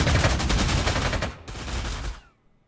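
Rapid machine-gun fire from a BF-109 fighter attacking bombers in the wargame Panzer Corps 2, a loud stuttering burst that cuts off briefly, resumes, and then fades out.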